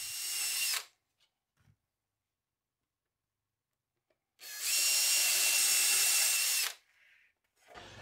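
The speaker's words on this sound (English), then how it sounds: "And I just drill those holes all the way through after marking them with the guide." Power drill boring holes through plywood for modern flat panel cabinet doors: a short burst that stops, then after a pause a longer loud whine of about two seconds, close up, with quiet gaps between.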